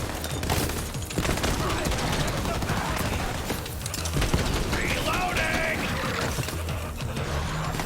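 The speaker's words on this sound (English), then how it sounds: "I'm gonna scoot over here and shoot one of these little ones" Dense, continuous gunfire in Borderlands 3, a busy rattle of rapid shots and mechanical clatter running throughout at a steady, fairly loud level with little pause.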